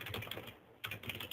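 Keystrokes on a computer keyboard as a subject line is typed into a medical records reminder, a steady run of close clicky taps with a short pause midway.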